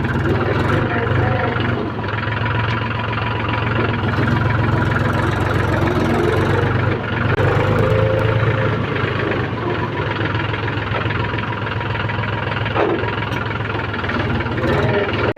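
A tractor engine idles close by with a loud, steady mid-to-low rumble that holds without a break throughout.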